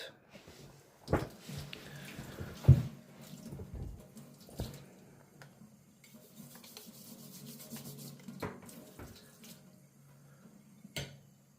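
Straight razor honed on a combination stone of purple LaLune glued to a coticule hybrid, with faint wet rubbing strokes and occasional knocks at close range, quiet and without talk.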